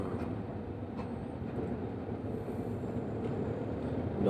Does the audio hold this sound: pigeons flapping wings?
no